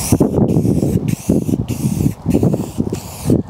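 Green paint sprayed from an aerosol can onto a wooden bike stand made of construction lumber, heard as several close hissing bursts separated by short pauses.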